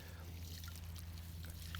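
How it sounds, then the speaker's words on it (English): Water poured from a container into the soil of a potted living Christmas tree, a quiet steady trickle over a low background hum. "just make sure that you add some good water in here"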